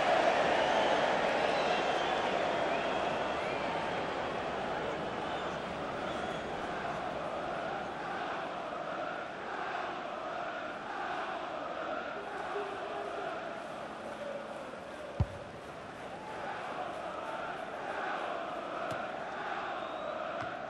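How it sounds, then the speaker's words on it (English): A stadium crowd in the football game FIFA 23 keeps up a steady roar and chant at moderate distance, a broad sustained wash of voices with one sharp thump partway through. "Mitrovic being egged on by the crowd."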